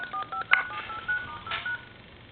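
A quick sequence of telephone keypad tones as a phone redials, beeping in irregular rhythm, with a brief louder burst partway through, clear and close with no talking.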